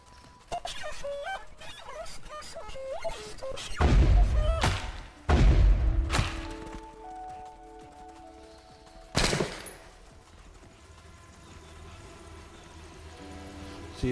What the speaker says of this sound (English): somebody's shooting somewhere